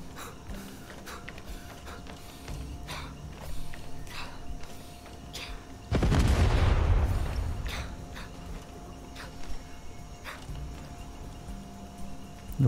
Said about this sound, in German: da ist irgendwas explodiert auf jeden Fall